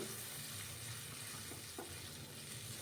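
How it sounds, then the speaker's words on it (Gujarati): Onion puree frying in a pan until golden brown, cooked as the base of a green peas, pigeon pea and potato curry; a faint, steady sizzle and hiss runs throughout with a couple of soft stirring clicks. "ડુંગળીને આપણે ગોલ્ડન બ્રાઉન કરવાની છે."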